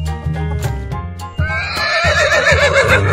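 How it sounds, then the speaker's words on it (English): A cartoon horse gives a loud, wavering neigh midway through, layered over a steady children's music beat that plays throughout. "Horse."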